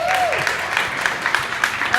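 Crowd applause at a horse show-jumping competition, a steady wash of clapping from spectators held at an even level throughout.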